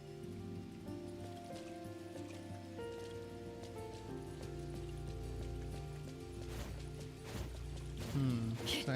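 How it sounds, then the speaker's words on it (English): Rain patters steadily in the video game NTE: Neverness to Everness, a faint wash of drops running under game music and talking throughout. "it's raining"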